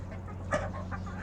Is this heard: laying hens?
yes